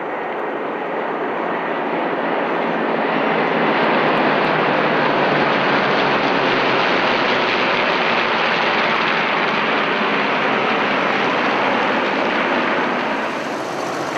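Vintage propeller aircraft flying together in a Balbo formation at the Flying Legends airshow produce a broad, continuous engine roar that swells slightly and holds steady for over ten seconds, loud and unbroken.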